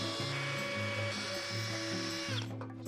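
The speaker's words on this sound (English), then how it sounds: "Pre-drill some holes along here about every foot or so." Power drill running steadily as it pre-drills a row of holes through a floor board into the joist beneath, a continuous whining motor tone that shifts pitch as the bit bites and speeds up, close and loud.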